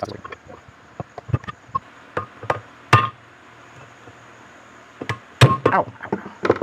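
A hammer strikes a screwdriver held against a stuck blender blade rotor clutch: a series of sharp, close metallic knocks in irregular bursts, with quiet pauses between.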